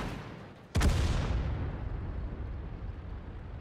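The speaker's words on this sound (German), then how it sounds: "da hat die Arti gerade oben alles zusammengeschossen" A single loud artillery blast in the tank battle game World of Tanks, a sharp boom at the start that decays into a long rumbling tail over continuing low background noise.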